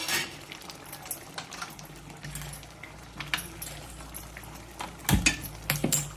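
Ghee heating in a pan for broken wheat and jaggery lapsi, giving a low, steady bubbling hiss with faint clinks, growing a little louder toward the end.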